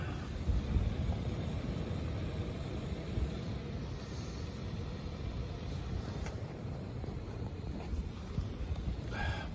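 Wind sweeping through a hammock campsite in a valley the morning after Storm Ciara, a steady rumbling buffet against the microphone with gusty swells and a few faint knocks, no talking.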